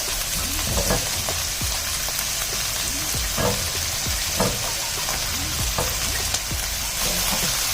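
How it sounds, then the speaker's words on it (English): Cauliflower and carrots fry in a claypot with a loud, continuous sizzle and crackle, broken by a few soft stirring scrapes, with no voices. "I'm going to put in the cauliflower and carrots first."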